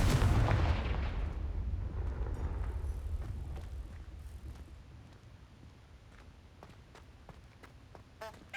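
The Confringo blasting spell from Hogwarts Legacy erupts as a loud, booming explosion at the start, then decays into a long rumbling tail and scattered crackling debris, with a short bright magical chime near the end.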